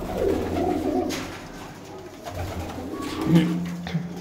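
Flying pigeons in Lahore give low, soft cooing calls, with a couple of distinct coos close by over quiet background noise.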